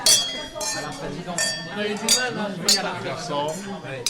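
Wine glasses chime in repeated bright clinks during toasts at a formal dinner for a culinary prize, overlapping one another above a steady murmur of guests talking.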